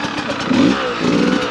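A four-stroke enduro motorcycle runs nearby on a trail, its engine giving a loud steady drone with a couple of revving swells, with people talking over it.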